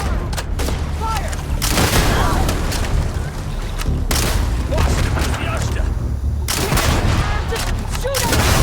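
Sustained gunfire fills a firefight in Starfield: dense, overlapping bursts of shots and booms crowd together continuously, close and loud, with voices shouting beneath the noise.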